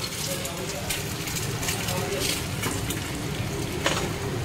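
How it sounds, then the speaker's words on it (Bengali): Carrots and onions frying in a pan with soy sauce and vinegar, a close, steady crackling sizzle with occasional scraping stirs, under voices talking nearby. "ওইটার মধ্যে কি কি ভাজছো জিজু?"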